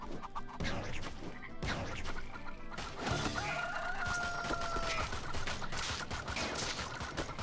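Chickens cluck and a rooster crows in the video game Swamp Attack 2, mixed into busy game noise with bursts of gunfire and effects throughout, no one speaking.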